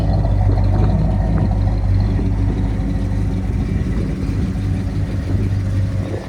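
A 1967 Oldsmobile Cutlass convertible resto-mod idles close by, a steady low rumble with a faint lope that holds even and loud throughout, with no voices.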